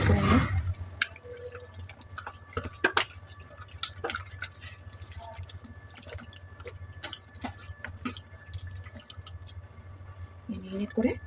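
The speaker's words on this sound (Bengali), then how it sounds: "ভালো করে আমি এখন মেরিনেট করে নেবো" Chicken being mixed with yogurt and oil into a marinade, giving faint wet squishes, drips and soft clicks of a utensil scattered over a low background hum.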